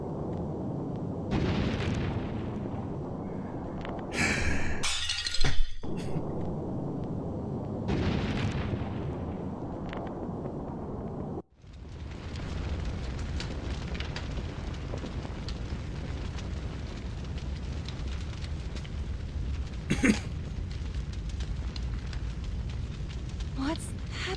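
Fire attack explosions in Octopath Traveler 0 hit in several bursts: a few rumbling blasts early on, a sharp crack near the middle, then a steady roaring fire with one more burst near the end, with talk over parts of it.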